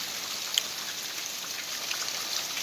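Heavy rain falling outside, heard from an open front door, a steady close hiss of dense drops with occasional sharper drips and patters, no voices.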